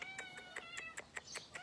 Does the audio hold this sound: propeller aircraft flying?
no